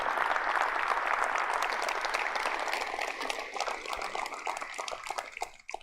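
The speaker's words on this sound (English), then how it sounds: "Can we give them a round of applause?" Audience applause at a city State of the City address in La Porte, a dense steady wash of many hands clapping that gradually thins and fades toward the end, with no speech over it.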